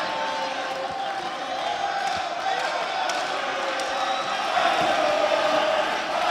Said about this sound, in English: the crowd behind now, you're chanting his name